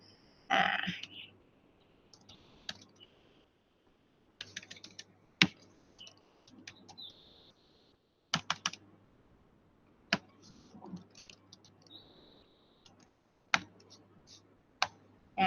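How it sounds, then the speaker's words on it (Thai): Typing and clicking on a computer keyboard: sparse, close key taps and clicks in short irregular bursts separated by quiet gaps, with a faint voice now and then. "ท่านก็คลิกแล้วก็พิมพ์นะคะ"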